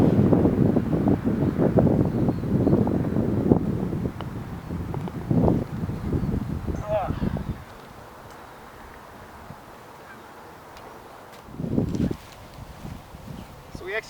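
Wind gusts across an open golf course in Flagstaff and buffets the microphone in broad rumbling bursts that rise and fall, with a quieter lull between them.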